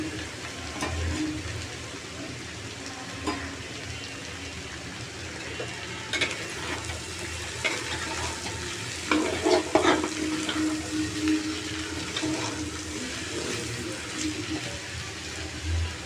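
Potatoes and hilsa fish roe sizzling steadily in hot oil, with occasional scraping and stirring clatters from a utensil in the pan.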